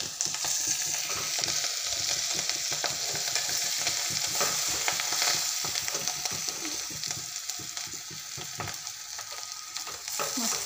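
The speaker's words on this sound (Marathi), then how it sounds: "स्वच्छ अशी चवळीची भाजी धुवून घेतलेली आहे। आता ती भाजी सोडणार" Freshly washed cowpea leaves drop into hot oil and sizzle loudly and continuously, with stirring scrapes and crackles in a close, steady frying wash, no one speaking.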